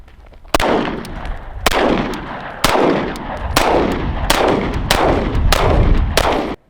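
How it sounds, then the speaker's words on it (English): A SIG Sauer P226 pistol fires seven loud, sharp shots, its first time ever being fired. The shots come at a steady pace, quickening toward the end, and each crack rings out with a short echo. "this is the first time this gun has ever actually been fired"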